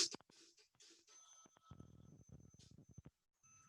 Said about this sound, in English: You hear the ringback tone.